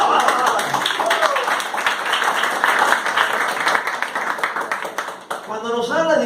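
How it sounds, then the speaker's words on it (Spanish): A church congregation applauds for Christ in a sustained, dense wash of clapping that fills most of the moment before a voice speaks again at the end. "Dale un aplauso a Cristo."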